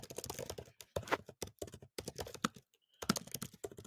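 Quick bursts of keystrokes on a computer keyboard, close and crisp, with irregular clusters of clicks broken by short pauses.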